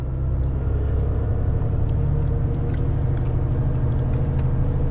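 A car climbing a hill with the gearbox held in manual mode, its engine a steady, loud low drone that stays even throughout with no gear changes, no voices.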